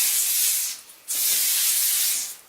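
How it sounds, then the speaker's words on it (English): Clogged hairspray can spraying onto hair in two close, loud hissing bursts, the first about a second long and the second longer, with no talk. "Hairspray is a little clogged"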